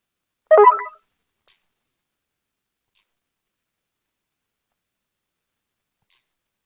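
A brand mobile phone ringtone plays one short, bright burst near the start, followed by near silence with only a couple of faint ticks.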